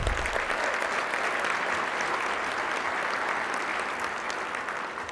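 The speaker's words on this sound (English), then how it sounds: "she deserves a round of applause" A club audience in Chicago gives a round of applause during a 2009 address by a U.S. senator, producing a dense, steady roar of clapping that continues evenly for five seconds and fades slightly at the end.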